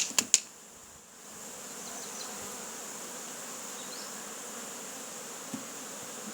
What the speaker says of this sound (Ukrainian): Кришку підняли, Бжіл струсили.